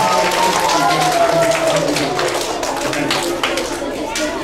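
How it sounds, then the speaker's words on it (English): A school assembly audience of elementary students gives a round of applause, a dense, steady wash of many hands clapping at once that fills the room for several seconds and tapers slightly toward the end. "Give this guy a round of applause."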